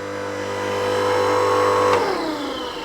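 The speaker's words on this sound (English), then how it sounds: "the electric motor on, you can hear the noise of it" Electric motor of a log splitter humming steadily with a strong tonal whine, then winding down in pitch near the end; close and fairly loud, no voices.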